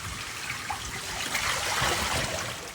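Steady rain and floodwater washing through a residential compound after a full day of downpour, a continuous broadband rushing and trickling wash that holds at an even, moderate level throughout, with no voices.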